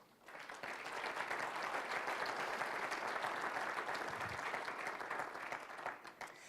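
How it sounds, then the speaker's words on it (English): Audience at a Michigan wheat program gathering breaks into a warm round of applause honoring the wheat board, rising quickly and holding as dense steady clapping before tapering near the end. "I think we owe them a big round of applause"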